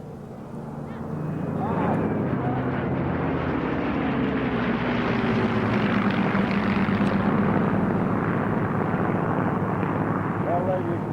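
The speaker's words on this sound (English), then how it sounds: "The two Spitfire 9s, the Hurricane 2C, and that Messerschmitt 109." Two Spitfire Mk IXs, a Hurricane IIC and a Messerschmitt 109 flying together at the Duxford Battle of Britain air show: a loud, continuous piston-engine roar and propeller drone that swells in the first two seconds and then holds steady.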